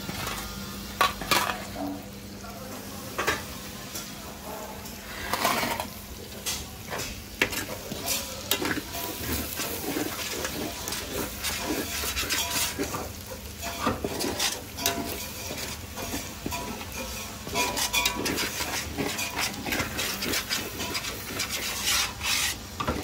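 A spoon steadily stirs and scrapes a simmering dish in a pot on low heat, with mint among the ingredients, giving a continuous close rasping scrape over a gentle sizzle.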